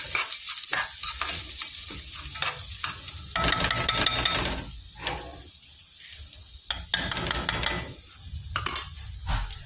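Rice browning in a pan for Spanish rice, a steady frying sizzle broken by repeated scraping stirs and occasional clinks of the utensil against the pan, close and fairly loud with no talking.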